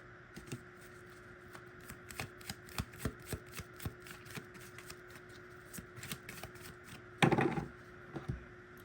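A tarot card deck being shuffled by hand, a steady run of soft close riffling taps and flicks ending in a brief louder burst, with no voices.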